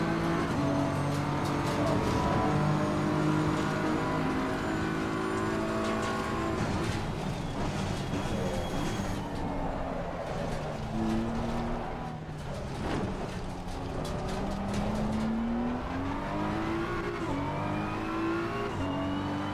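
The heaviest available race car laps the Nordschleife in an endurance racing video game, its engine droning loudly and continuously, rising and falling with gear changes and throttle lifts.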